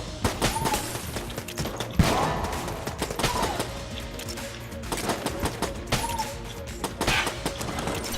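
Rapid bursts of gunfire from a budget revolver in the Enter the Gungeon video game, with repeated sharp shots and thuds over busy game sound effects.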